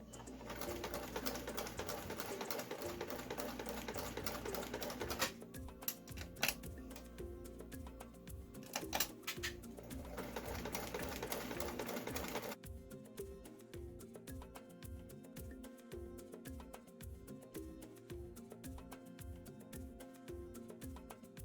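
A sewing machine stitches a reusable fabric mask in fast, even mechanical pulses, running in bursts with short pauses as the stitching goes back and forth. The whirring is close and moderately loud.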